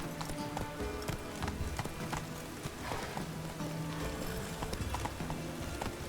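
A horse gallops in The Witcher 3, rapid rhythmic clip-clop hoofbeats pounding steadily over a busy game soundscape with ambient clatter, close and continuous.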